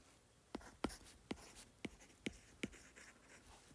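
Chalk or pen writing out a physics equation about rolling friction and torque, a quiet series of about seven distinct scratchy taps and strokes in an uneven rhythm, close and alone.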